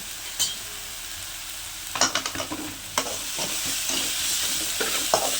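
Onions with a pinch of salt sizzle in a pan for chicken gravy under a steady fry hiss, with clicks and scrapes of a spatula stirring close by.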